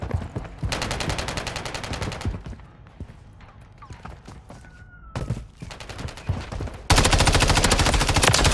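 Rapid automatic gunfire from a Call of Duty Modern Warfare 3 firefight, loud dense bursts with a short lull of scattered single shots before the bursts resume and hit hardest at the end.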